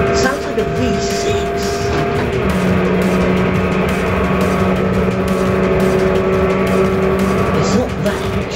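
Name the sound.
hatchback car engine revving, sounds like a V6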